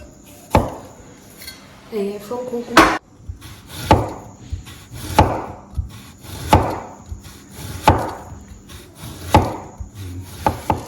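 A knife cutting through firm green plantain for chips: a close, steady series of about nine dull thuds and scraping strokes, each with a short woody tail, evenly paced and fairly loud.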